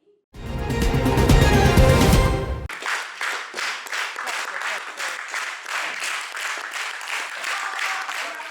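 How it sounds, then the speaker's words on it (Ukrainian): Audience at a theatre performance of a stage piece based on Petőfi's János Vitéz bursts into applause, with steady, rhythmic clapping after a loud opening burst of sound. "Бурхливі оплески, сльози радості після вистави"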